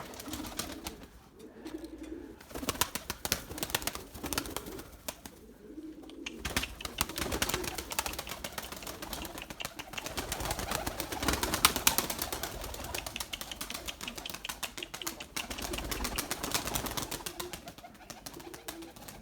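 Purebred Erzurum white pigeons cooing in a loft, soft low repeated coos with rustling and occasional wing flaps, close and continuous.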